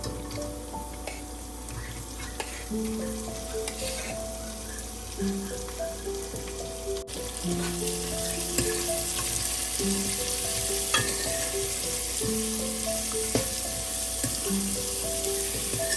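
Onions frying in oil in a pan for a Punjabi aloo gajar matar sabzi, a steady close sizzle running throughout beneath tonal background music, getting slightly louder midway, with no one talking.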